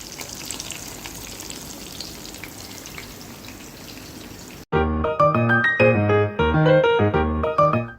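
Fish frying in a pan gives a steady, close sizzle with scattered crackles for about four and a half seconds, then stops abruptly as loud instrumental music takes over.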